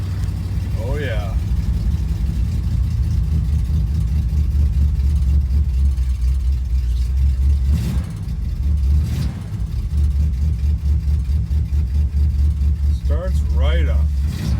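An old car engine with a choke runs close up, a loud, steady low rumble idling throughout with slight swells, while people speak over it at a few points.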